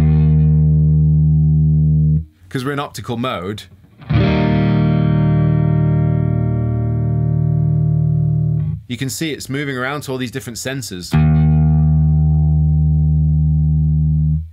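A Game Changer Audio Light Pedal in optical mode adds reverb to a loud, droning guitar note that keeps ringing under a voice, swelling back up between his phrases.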